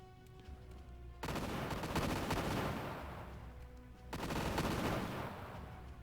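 Spaceships firing weapons in the Imperium Galactica video game, two long bursts of rapid, dense blasts that start abruptly, loud and close, separated by a brief drop in intensity over a low hum.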